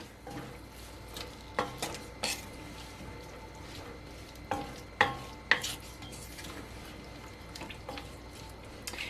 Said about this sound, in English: Stir them up